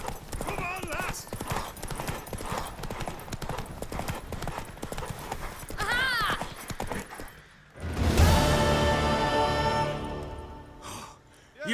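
A horse gallops in The Witcher 3: Wild Hunt with rapid, continuous hoofbeats, a loud neigh and surge of motion near the end, and breathy gasps and voices mixed in.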